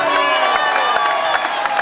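An audience cheers and applauds in a crowd at a French community event, a steady dense wash of voices and clapping that holds at full level for the whole stretch without pause.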